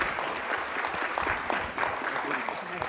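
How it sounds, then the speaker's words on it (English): A conference audience applauds a departing minister with brisk, fairly loud clapping from many hands, steady for a few seconds, a voice faintly present. "can we just give him a round of applause"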